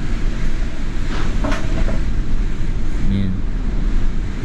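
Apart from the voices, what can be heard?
strong typhoon wind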